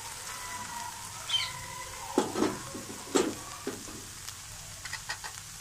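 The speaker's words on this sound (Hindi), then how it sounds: "तो अल्हम्दुलिल्लाह प्याज अदरक और हरी मिर्च अच्छी तरह भुन गई है" Onions, green chili and ginger paste sizzle in a hot pan, a soft steady crackle of frying broken by several sharp scraping stirs and clinks of the spatula, close and clear.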